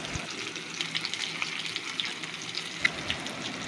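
Memoni kabab fries in hot oil, a steady close crackling sizzle with scattered sharper pops throughout, no talking.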